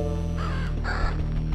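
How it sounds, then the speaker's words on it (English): A crow in a video game cornfield gives two harsh, close caws, loud over a steady droning game background. "We're going to shoot this crow across the field."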